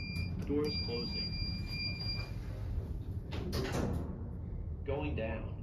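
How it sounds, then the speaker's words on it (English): Doors of a Liftronic machine-room-less traction elevator slide shut with a soft mechanical rumble and squeak while a recorded voice announces, with a faint high beep tone and background chatter. "Doors closing."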